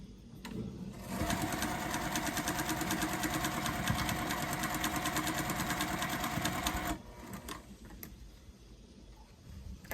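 A sewing machine stitches quilt pieces for a rainbow star wall hanging, running in one steady rapid whirring burst for about six seconds before stopping, with faint handling sounds before and after.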